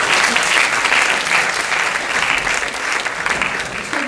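An audience at an improv show during the Paris improv festival applauds a volunteer coming up on stage, dense continuous clapping filling the room, loud and steady throughout.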